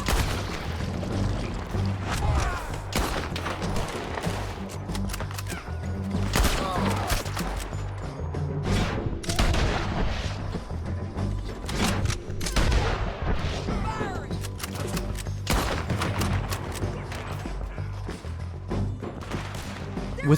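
A Red Dead Redemption 2 shootout, with dense, loud gunfire cracking irregularly throughout, shots overlapping with booming impacts and a few heavier thuds.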